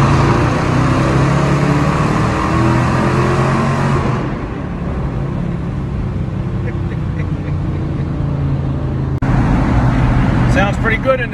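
A car engine drones loudly with a roaring, enclosed tunnel rumble, then briefly drops away before the engine noise surges back near the end.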